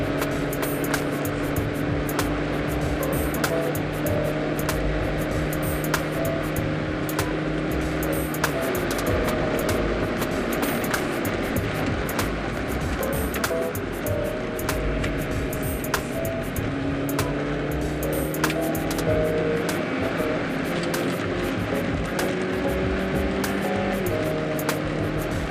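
Volkswagen Polo Sedan engine running steadily at high revs, a continuous, fairly loud droning hum with slowly shifting harmonic tones that hold for the whole stretch, heard from inside the car with no talking.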